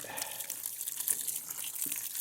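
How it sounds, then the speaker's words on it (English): Water poured over livestock feed pellets to soften them into a slurry, a faint continuous trickle and splash with small drips, close and quiet with no talking. "That water break down the pellets a little bit."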